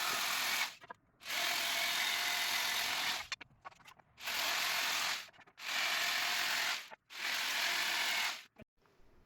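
A power tool cuts planks to size for a small camper van kitchen in four long bursts of loud, steady whine, separated by short quiet gaps.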